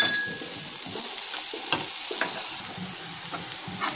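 Vegetables fry in hot oil with a sprinkle of salt for a vegetarian semolina pulao, giving a steady close sizzle broken by intermittent scraping stirs of a spoon in the pan.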